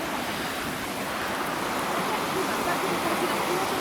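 A waterfall gives a steady, broadband rush of falling water heard from nearby, constant and fairly loud throughout.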